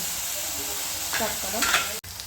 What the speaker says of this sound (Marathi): आता मस्त वा आपलं हे कांदे छान परतून घे